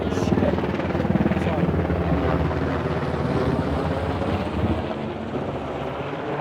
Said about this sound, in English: Get it, it's a Black Hawk.